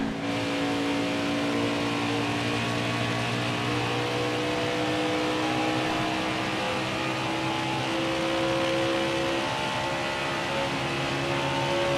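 A Toyota Supra stock car from the NASCAR Heat 4 racing game drones at a steady, sustained engine pitch with a constant whine, loud and unbroken throughout, with no talking.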